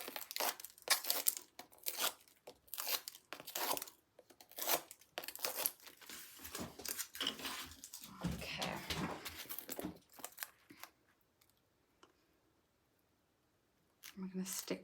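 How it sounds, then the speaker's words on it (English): Backing strips being peeled off adhesive pads for cardmaking make repeated close crinkling and tearing rasps in bursts, pausing into near silence before one last rustle. "peel off those back ends again"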